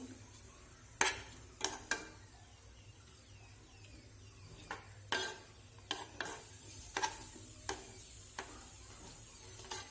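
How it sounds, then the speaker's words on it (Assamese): A spoon stirs batter of semolina and wheat flour for fried oil pitha, making about nine sharp, irregular scraping clicks against the pot over a low steady hum, with no talking. "মই এতিয়া এইটো চামুচেৰে লৰাই দিম"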